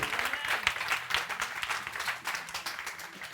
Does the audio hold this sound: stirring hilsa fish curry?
no